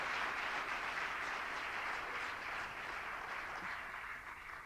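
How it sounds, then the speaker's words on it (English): An audience applauds Mike Nuttall, co-founder of IDEO, after his talk: a dense, even wash of clapping that holds steady for several seconds and tapers slightly at the end. "We can get a quick round of applause for Mike."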